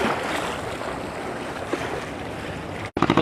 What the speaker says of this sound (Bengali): অনেকটা সেই ঢেউয়ের আঙ্গিকেই এখানে আশ্রে পড়ছে ঢেউ